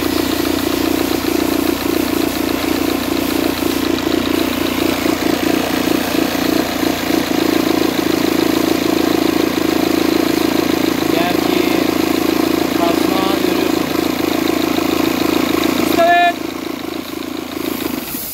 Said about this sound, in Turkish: Önce motoru çalıştırıp sizlerin sesini dinleyeceğim.